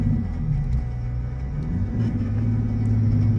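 A Nissan 350Z with a rear-mount turbo and a blown transmission drives along stuck in gear, its engine droning in a steady low rumble that rises slightly in pitch, loud and close with no talk.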